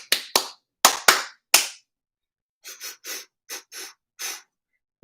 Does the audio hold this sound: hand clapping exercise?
yes